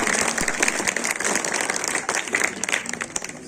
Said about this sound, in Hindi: जोरदार तालियां मैम के लिए।